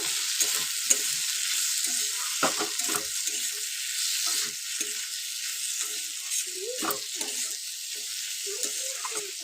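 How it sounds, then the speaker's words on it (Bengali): Spice paste with chili and cumin powder sautéing in a pan for a fish and green pea curry, a constant frying hiss under repeated spatula scrapes and knocks against the pan, close by. "সামান্য দিয়ে দেব জিরের গুঁড়ো, দিয়ে খুব ভালো করে কিন্তু আবার মশলাটাকে কষিয়ে নেব।"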